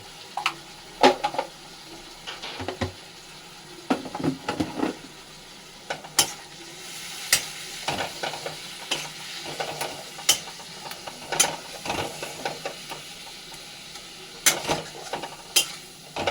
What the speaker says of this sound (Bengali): এবারে পেঁয়াজের সাথে মশলাটাকে ভালো করে নাড়িয়ে নিতে হবে